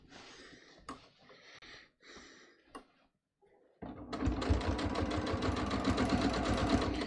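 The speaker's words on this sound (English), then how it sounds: "And we'll just sew this." A sewing machine stitches fabric for a back pocket in a steady, fast, close-up run of needle clatter lasting several seconds, after brief handling and rustling sounds.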